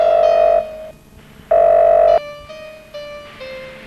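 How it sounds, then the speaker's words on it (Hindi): A telephone rings with loud electronic warbling tones in repeated bursts, separated by short gaps, alone without any talk. "टेलीफोन आया"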